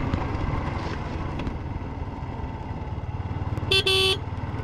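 A truck grinds past on a mountain road while a motorbike rider travels nearby, its engine a steady low rumble, then a loud horn blares in two short bursts close by near the end.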